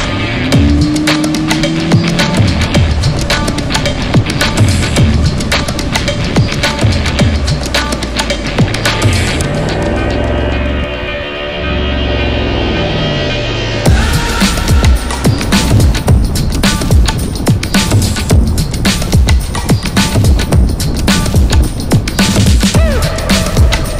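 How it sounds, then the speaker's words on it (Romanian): A 2023 Mercedes-AMG SL 63 Roadster launches hard under launch control, its engine roaring loud and close, surging through gear changes with a brief dip before pulling again. "Nou SL știe foarte bine să accelereze în linie dreaptă."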